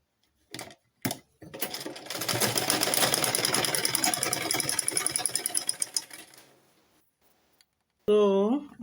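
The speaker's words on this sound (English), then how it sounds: "Back stitch, stitch. Please ignore my machine noise." A sewing machine stitches a corset in one steady burst of rapid mechanical whirring lasting a few seconds, preceded by short clicks and followed by a brief voice.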